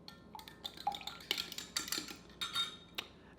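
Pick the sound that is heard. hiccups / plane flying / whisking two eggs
whisking two eggs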